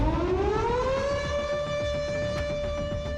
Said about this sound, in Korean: 공습 사이렌 소리가 이렇게 들리면 미사일이 날아드니까